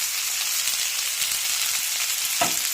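Drumstick pieces, green chili and curry leaves sautéing in a pan for a drumstick and potato theeyal, a steady close hiss of frying with a brief stir near the end.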